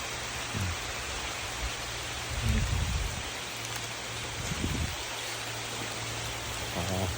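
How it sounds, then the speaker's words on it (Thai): Rain falls steadily in a forest, a dense even hiss of drops on leaves and ground with a few louder low thumps of nearby drips, no talking. "โอ้ฝนตก"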